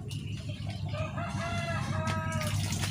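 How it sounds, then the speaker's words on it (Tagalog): Poultry farm fowl, with ducks kept among chickens, calling in a short burst of close, repeated honking and clucking notes over a steady low background hum. "Dito po may alaga kami bibi."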